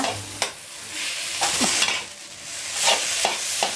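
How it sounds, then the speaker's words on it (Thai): Glass noodles and seasonings are tossed in a pan over high heat for egg stir-fried noodles, with a loud sizzle under repeated scraping stirs of the spatula. "ระหว่างที่คลุกเคล้าวุ้นเส้นนะคะ เราก็สามารถเปิดไฟแรงได้ค่ะ"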